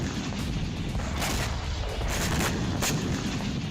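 Russian missile strikes on Odesa, a dense continuous roar of blasts and rumbling booms in quick succession, loud and heavily distorted throughout with no clear pauses.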